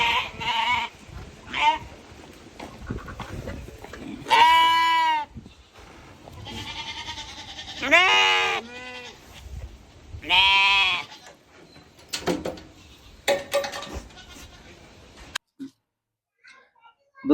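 Sheep and lambs bleat loudly at a sheep market, several clear cries rising and falling between stretches of people talking nearby, the scene dropping to near silence at the end.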